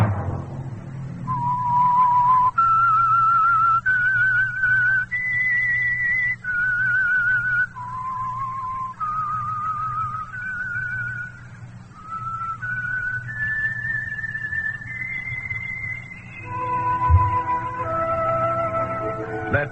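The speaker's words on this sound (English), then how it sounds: "Let that whistle be your signal for the Signal Oil program" A whistled melody serving as the signal for the Signal Oil radio program The Whistler, a clear solo tune with a sequence of sustained, stepping notes over a steady low background hum, loud and close throughout.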